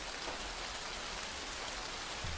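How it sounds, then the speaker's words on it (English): Steady rain falling heavily and evenly on a surface, a dense continuous hiss of drops with no talking over it. "God, I love the sound of the rain."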